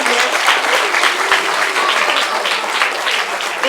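A crowd at a maths festival for schools bursts into loud, continuous clapping for a named school, dense and energetic from start to finish.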